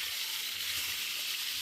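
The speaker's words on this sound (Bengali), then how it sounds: "মাছগুলোকে আস্তে আস্তে করে ভেজে নেব।" Fish sizzling in hot oil in a pan, pomfret for a curry, giving a steady, bright crackling hiss that runs evenly throughout, close and moderately loud with no voices.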